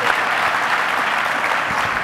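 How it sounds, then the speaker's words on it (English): A live conference audience claps steadily in a brief round of applause for panelists, dense and even throughout with no talk over it. "let's give him a round of applause"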